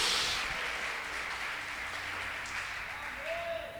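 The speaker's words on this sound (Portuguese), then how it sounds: "aplauda ele o mais forte que você puder, ao libertador Jesus" A church congregation applauds loudly and continuously, a thick even roar of clapping with no pauses.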